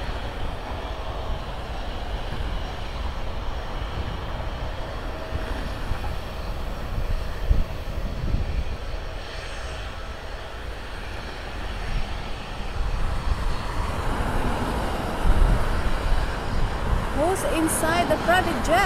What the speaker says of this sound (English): Two Delta are taking off.